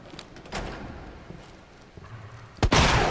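Shotgun fire in the Resident Evil 2 Remake game: a sharp, loud blast with a bright burst near the end, after a sparse stretch of quieter game noise and a softer thump earlier.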